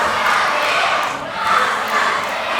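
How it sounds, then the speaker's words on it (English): A large live pro wrestling crowd roars and shouts continuously in an arena, a dense, loud wall of cheering voices with a brief dip before rising again. "Listen to the crowd though, Shane Hero."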